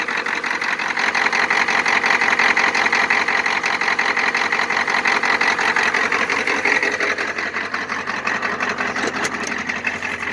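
A cold engine idles steadily just after a cold start, a loud, continuous rattling clatter close by that holds without a break throughout.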